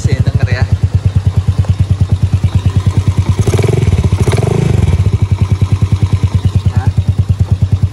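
A motorcycle engine idles smoothly and evenly up close, its rapid regular thumping pulses steady throughout, while someone talks briefly over it midway.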